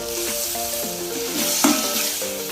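Curry leaves sizzle in hot oil with tomato for semiya kichadi, a dense steady frying hiss, close and continuous, with a few light stirring clinks.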